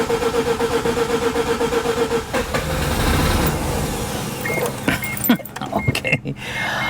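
Mazda RX7 engine cranks with a steady rhythmic chug for about two seconds, catches into a rough, loud running roar, then sputters and dies away into clanks and handling noises near the microphone.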